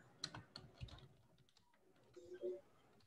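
Computer keyboard keys are pressed in a few soft, close clicks, a brief cluster of light taps spread over a few seconds in a quiet room.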